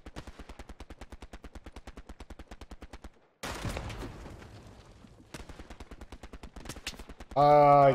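Automatic gunfire in the Hell Let Loose video game: a long rapid rattle of shots, a heavy blast with rumbling debris, then another sustained burst, loud and close, ending with a short raised voice.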